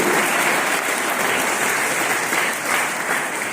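A crowd claps steadily and loudly at an athletics medal ceremony, the dense applause continuing evenly without pause.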